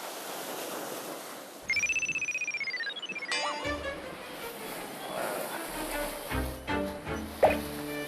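A mobile phone rings from inside a tackle box on a fishing boat at sea, a clear rising-and-falling electronic tone heard briefly over wind and waves, followed by clattering and voices talking nearby.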